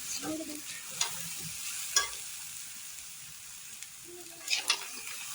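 A spatula stirs rice frying in ghee in a pan, with a soft continuous sizzle broken by several sharp scraping clinks of metal against the pan, close by and with no talk.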